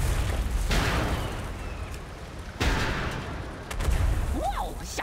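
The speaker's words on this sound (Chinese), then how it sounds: "他们朝我们发射炮弹，用急速炮火解决他们" Cannons fire during a World of Warcraft goblin quest in Nazmir: three heavy booms hit at irregular intervals over a constant rumbling battle background, moderately loud.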